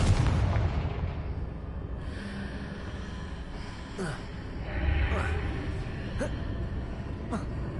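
A Confringo fire spell bursts in Hogwarts Legacy with a loud explosive boom at the start, then several crackling hits and clattering impacts under faint vocal sounds.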